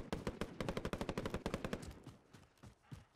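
Rapid automatic gunfire from a battle royale video game, dense bursts of shots fired in quick succession, loud and close, tapering into scattered shots at the end, with no talking.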